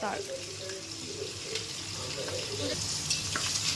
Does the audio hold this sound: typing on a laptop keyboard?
no